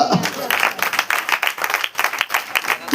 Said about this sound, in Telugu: గొప్ప చప్పట్లు.